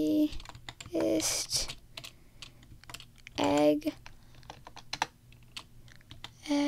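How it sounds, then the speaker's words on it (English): Keys clatter on a computer keyboard in slow, uneven bursts and single taps, close and clear, while a voice speaks briefly in between. "Sorry that my typing's slow."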